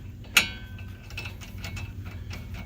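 A deep well socket turns a lug nut to pull a wheel stud into a Subaru FRS hub, giving one sharp metallic clack followed by a run of quick ratcheting ticks, close and alone.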